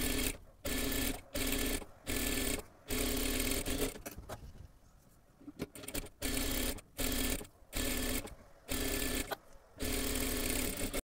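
Close, loud sewing machine stitches tucks on a blouse in repeated short runs, each burst of a second or so separated by brief pauses, with a softer stretch midway.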